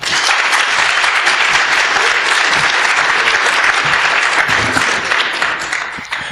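Loud, sustained applause from a symposium audience welcoming game designer Jordan Mechner, steady dense clapping for several seconds before tapering slightly at the end.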